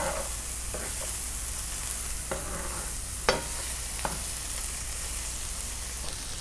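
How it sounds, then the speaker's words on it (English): Chanterelle mushrooms searing in a pan give a steady close sizzle with a constant frying hiss, broken by a few sharp scrapes and clicks of stirring. "Wait until you get a nice sear on the mushrooms."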